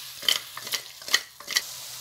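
Farm chicken pieces fry with salt in a pan, four quick scraping stirs over a soft sizzle, close and brief, with no talking.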